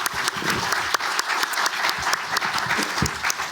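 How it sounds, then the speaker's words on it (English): An audience at a grassroots performing arts panel gives the panel a round of applause, a dense, steady burst of clapping from a crowd with sharper individual claps standing out throughout. "I will just ask everyone to give perhaps a round of applause to the panel again for sharing that"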